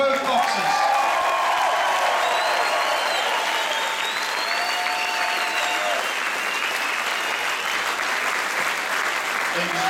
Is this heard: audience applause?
yes